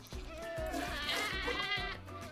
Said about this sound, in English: these are both screaming goats